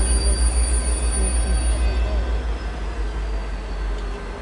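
A V/Line passenger train hauled by locomotive N463 rumbles loudly nearby with a steady low roar, high metallic wheel squeal ringing over it as it rolls into a station and slows.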